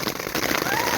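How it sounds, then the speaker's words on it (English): Steady rain from a rainstorm at Meysan Lake, a dense continuous patter and hiss close by with scattered louder drops, filling the whole moment without pause. "Stuck up here in a rainstorm."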